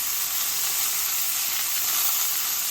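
Pork tenderloin sears in a hot pan, giving a steady, loud, bright sizzle that holds unbroken from start to finish with no talking.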